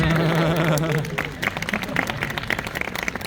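Audience applause at a Korean traditional wedding at an outdoor festival starts as talk fades, with lively scattered clapping building under crowd noise.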